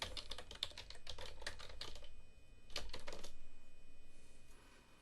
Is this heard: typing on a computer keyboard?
yes